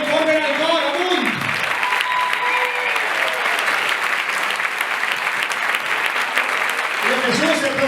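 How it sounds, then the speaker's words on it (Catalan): Concert audience applauding a choir at a Christmas concert, a dense, loud and steady ovation running the whole time, with a voice speaking over the start and end. "Un aplaudiment ben fort per al cor"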